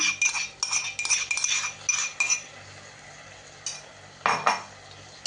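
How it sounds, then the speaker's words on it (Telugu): A metal spoon clinks and scrapes against a pot as curd is stirred into tomato masala for a chicken fry piece biryani, in short bursts with quiet gaps between. "పెరుగు వేసుకొని కలుపుకోవాలి బాగా"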